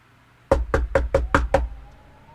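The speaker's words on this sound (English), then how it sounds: "the knocking began again. It was quiet at first, but still sharp, like dry bones striking the door." Six sharp, dry knocks rap on a door in a quick, fairly even sequence, close and distinct against a quiet room, each strike short with a faint decay.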